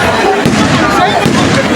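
At the Pokhara Street Festival on New Year, firecrackers burst in loud, dense, overlapping pops and crackles among a noisy crowd, with voices mixed in.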